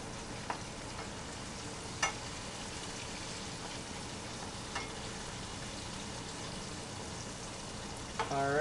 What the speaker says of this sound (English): it's dropped right into the hot grease